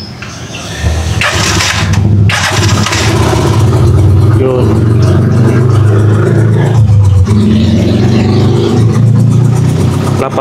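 A Rusi Chariot 175 motorcycle, freshly changed to Bajaj RE oil, cranks and fires, then settles into a loud, close idle with a couple of throttle blips, and someone speaks briefly at the start.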